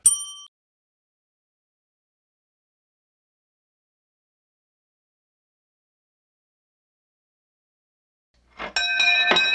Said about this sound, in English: And doorbell.